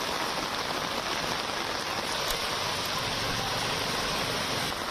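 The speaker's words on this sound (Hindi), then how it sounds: "मूसलाधार बारिश का दौर यहां पर जारी है।" Torrential monsoon rain pours down steadily during a Mumbai downpour, a dense, loud, unbroken hiss with no pauses and no voices.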